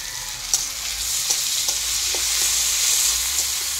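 Chopped tomatoes frying in hot oil in a home kitchen, a steady close sizzle throughout with a few soft stirring clicks, no talking.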